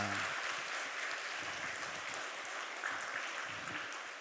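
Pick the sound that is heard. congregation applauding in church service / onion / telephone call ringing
congregation applauding in church service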